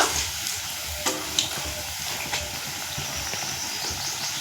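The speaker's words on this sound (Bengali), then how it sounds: "চপগুলো একটা পাশ হয়ে গেছে এখন আমি উল্টিয়ে দিব" Pumpkin chops sizzle steadily in hot oil at medium heat, a constant bright frying hiss with a few soft knocks and scrapes as they are turned over in the pan.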